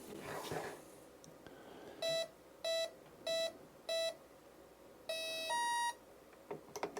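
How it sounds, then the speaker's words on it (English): A Spektrum NX radio transmitter gives a series of four short, clean electronic beeps, then a longer two-tone chirp, close but fairly quiet over a faint background with no talk. "a little beep tells us we're back in business"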